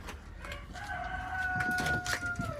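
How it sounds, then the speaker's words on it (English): A rooster crows in a long, drawn-out call, fairly close and clear, over a soft background of outdoor noise. "first, you hear the rooster"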